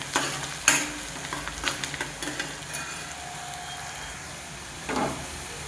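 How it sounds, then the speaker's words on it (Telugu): Onions and green chillies frying in a pan for gongura chicken, a soft continuous sizzle broken by several sharp spoon knocks and stirring scrapes near the start and again toward the end. "ఆనియన్స్ ఫ్రై అయిపోయినాయి కదా"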